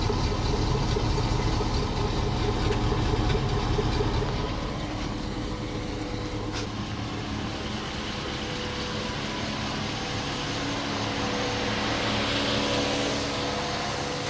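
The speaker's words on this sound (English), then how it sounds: "letting my engine idle up to temperature" A 5.3L LS-swapped engine idling steadily in an S10 truck, warming up to temperature, with a continuous low, even rumble held at close range that eases slightly after the first few seconds.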